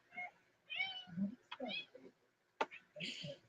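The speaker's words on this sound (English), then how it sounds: "Spoiled cat." A pampered house cat meows repeatedly at close range, several drawn-out cries in a row, with a couple of sharp knocks between them.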